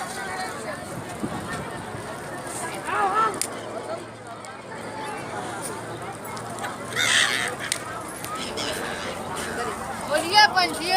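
Migratory birds call over the river at Sangam, Prayagraj, Uttar Pradesh, while people feed them. Honking and squawking calls rise in scattered bursts over close chatter from people nearby.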